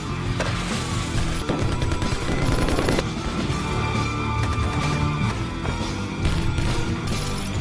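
Armed gangsters and a SWAT team exchange fire on a highway during an attack on a police convoy: dense, continuous gunfire with overlapping bursts and crashes, loud and sustained throughout with no pauses.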